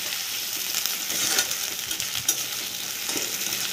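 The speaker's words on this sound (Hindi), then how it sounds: "अब ऐसे अच्छे से मिलाऊंगा। बहुत बढ़िया तरीके से फ्राई करूंगा।" Ginger garlic paste fries with onions in a kadai: a steady close sizzle with a few soft stirring scrapes and light clinks.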